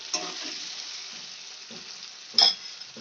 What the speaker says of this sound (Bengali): এইদিকে আমি আলুটাকে লাল করে ভেজে নিচ্ছি